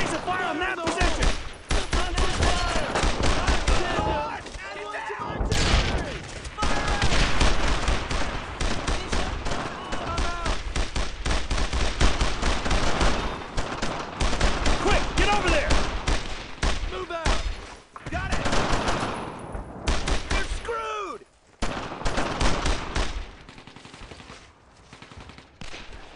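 Sustained gunfire in the World War II video game Brothers in Arms, with rapid machine-gun bursts and rifle shots in a heavy, continuous fusillade, and soldiers shouting over the shooting.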